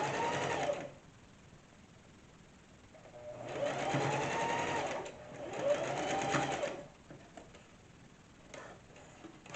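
A sewing machine stitches a makeup bag in two runs of steady mechanical whirring, each lasting a few seconds, with quieter pauses between them.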